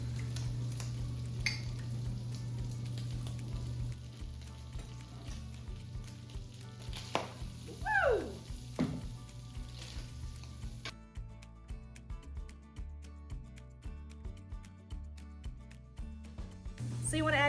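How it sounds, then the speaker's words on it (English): Bacon grease sizzles in a pan for homemade sausage gravy, a moderate steady frying hiss with occasional utensil taps and stirring, and a brief chirp partway through. "So I'm just gonna add a tablespoon or 2 of bacon grease"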